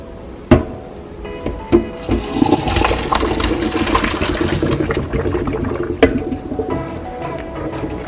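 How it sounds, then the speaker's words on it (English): Water pours and splashes from a pot into a sink, with metallic clanks and knocks of cookware, loud and close. "now I will go ahead and drain the water"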